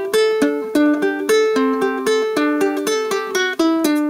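Plucked ukulele notes from a song's riff in a quick, steady repeating pattern, bright and close, with each string pluck clearly separated.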